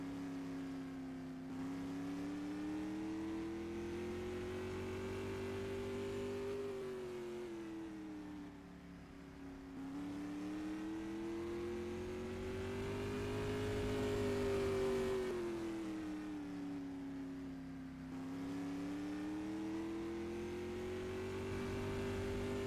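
A race car engine laps a racetrack during qualifying, its drone rising and falling in waves as it passes around the circuit, loud and steady, with no talk over it.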